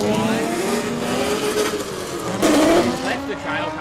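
A Nissan Z drift car initiating a slide at a Superdrift competition round, engine revving hard with long wavering tire squeal, a sharper screech surge midway, heard over commentators talking.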